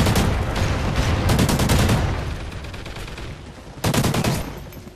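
A Remington firing in a video game: loud, close bursts of rapid gunfire that ease off midway, then one more sharp burst near the end, with no voices.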